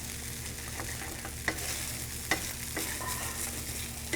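Sticking rice in a pan on high heat is scraped with a wooden spoon, giving a continuous close-up frying sizzle punctuated by a few sharp scrapes and knocks against the pan, with a faint background hum.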